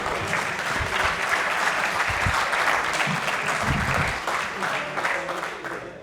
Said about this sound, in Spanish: Pueden aplaudir si quieren.